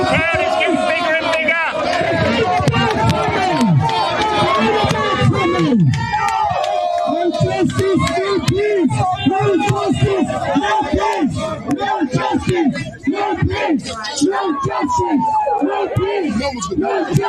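A large outdoor crowd of thousands gathering at a protest, loud rhythmic chanting and shouting from many voices, close and continuous with repeated cheers and calls.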